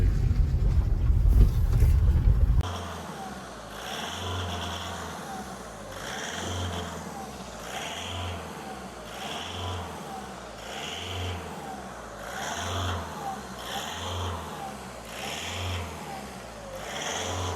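A VAG 1.6 TDI diesel car engine with an injector fault idles steadily after a loud burst at the start, keeping a low rhythmic throb and clatter that pulses roughly every second.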